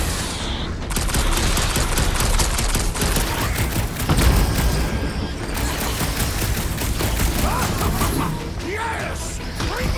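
Dense gunfire from the video game Marvel's Guardians of the Galaxy: rapid continuous bursts of shots with crashes and impacts, loud and constant, with game chatter faintly underneath.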